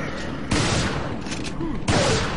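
Shotgun blasts in Resident Evil 4, two loud broadband bursts about a second apart over dense game noise.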